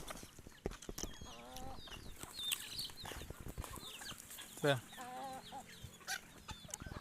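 Chickens cluck and chatter in the evening, with scattered short calls from several birds at a moderate distance, and someone speaks quietly among them.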